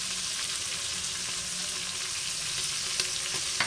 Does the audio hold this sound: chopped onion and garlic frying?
yes